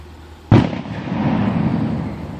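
A single sharp Fourth of July firework blast cracks out, followed by a rolling, rumbling echo that lingers and fades slowly.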